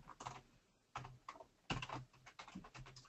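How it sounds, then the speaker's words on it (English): Quiet typing on a computer keyboard while setting up a SQL Server login, soft irregular clusters of key clicks close by, with no talking. "I usually try to be quiet while I'm typing."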